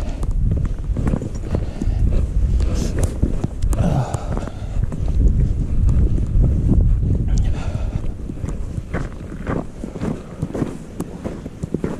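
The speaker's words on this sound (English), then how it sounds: "Wind's picking up a little bit." Gusty wind buffeting the microphone on the Alum Cave Trail up Mount LeConte, a loud low rumble that swells and fades, mixed with crunching steps.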